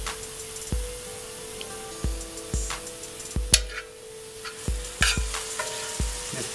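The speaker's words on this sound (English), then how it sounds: "You want to stir your antelope meat slow and cook it at a low heat so it doesn't burn." Antelope meat seasoned with New Mexico spices sizzles steadily in a pan over low heat, while a utensil stirs and scrapes through it in regular, close knocks roughly every second.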